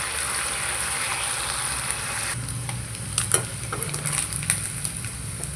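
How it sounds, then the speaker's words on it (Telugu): Homemade ginger garlic paste sizzles in hot oil in a pan while cooking chicken pickle, a steady frying hiss that turns busier midway with close stirring scrapes and clatters. "ఇంట్లోనే అల్లం వెల్లుల్లి పేస్ట్ వేసుకొని బాగా వేగనివ్వాలా."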